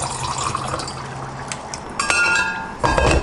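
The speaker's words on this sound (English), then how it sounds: "I'm going to get myself a cup of water" Glass clinking and water filling a cup in a home kitchen, with a couple of sharp chinks and a short run of pouring near the end, close and fairly clear over low room noise.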